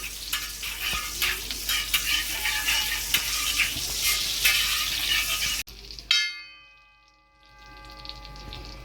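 Oil and butter heat and get stirred together in a tawa for a tawa egg masala, a loud crackling sizzle with utensil scrapes, then a sharp metallic clang and quieter ringing afterward.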